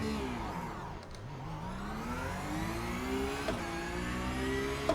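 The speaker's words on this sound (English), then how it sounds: "I'm just going to press those two buttons down, rev the guts off it, and release that dual clutch trigger." A race car in iRacing revs hard on a standing start launch with the dual clutch, its loud engine note dipping then climbing steadily in pitch as it accelerates away, unbroken and close.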